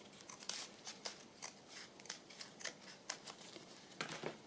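Scissors snip paper for a journal in a quick run of short, crisp cuts at a steady rhythm, close and quiet, with no talking.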